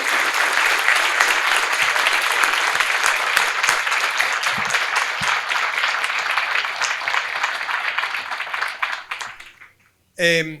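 Sustained audience applause at a law conference, dense clapping from a sizable crowd that carries on for about ten seconds before fading out, followed by a voice resuming.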